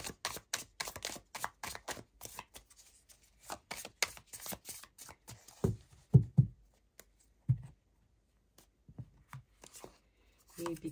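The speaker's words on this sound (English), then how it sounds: "let's get some tarot cards down here." Tarot cards being shuffled and laid down on a table in a rapid run of crisp flicks and taps, followed by scattered softer slaps and snaps of cards placed one at a time.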